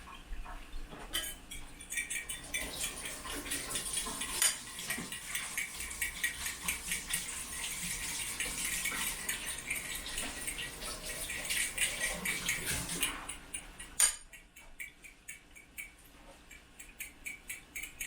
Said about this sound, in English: now you can beat up those eggs